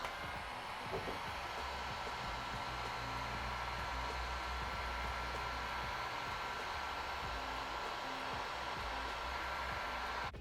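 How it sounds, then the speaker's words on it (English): A heat gun shrinks heat shrink tubing over soldered wiring during an air ride install on a Softail motorcycle, a steady, close blowing roar that holds unchanged throughout with no voices. "Take our heat gun."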